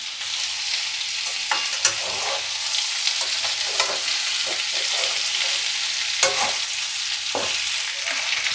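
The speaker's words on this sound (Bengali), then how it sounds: "কেন আমি যে কাজু রেখেছি এগুলো এর মধ্যে দিয়ে দেবো, এর সাথে ভাজা হয়ে যাবে" Cashews and raisins fry in hot oil in a pan while making potol pulao, a constant close sizzle broken by occasional clinks and scrapes of stirring, with no talking.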